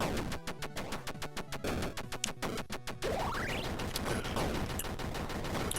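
Rapid retro-style gunfire from the Wild Dogs shooter, a Contra-like indie game: a fast rhythmic burst of shots, then denser layered firing with rising synthetic effect sweeps over busy game music and explosions.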